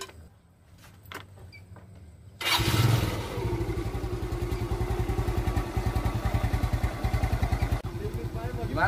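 A motorcycle engine kicks into life after some quiet clatter, then runs with a rapid, loud, steady putter; voices are faintly present.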